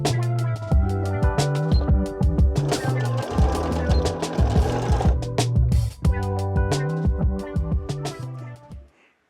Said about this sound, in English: the last thing I'm gonna do today is to sew it to the front panel